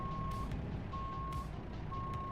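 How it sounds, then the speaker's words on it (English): A truck in a Volvo driving simulator game gives three steady, evenly spaced reversing beeps over a constant low engine rumble, loud and close. "I love the sound of the truck backing up."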